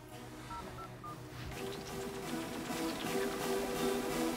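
Touch-tone telephone dialing for a call-in prize draw, a quick run of short DTMF beeps early on over steady background hum and music, fairly faint.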